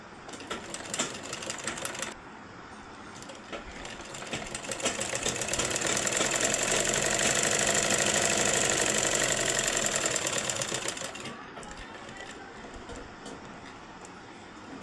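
Rapid, steady stitching from a sewing machine runs tucks into the front of a blouse, swelling louder through the middle and easing off again, with the hum of the motor underneath.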